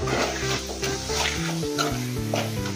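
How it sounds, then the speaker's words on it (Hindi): Red chilli powder and turmeric fry in a pan, a steady close sizzle with light stirring that runs beneath a melodic background music track. "इसको 1-2 सेकंड ऐसे ही इसको तलना है, यानी पकाना है।"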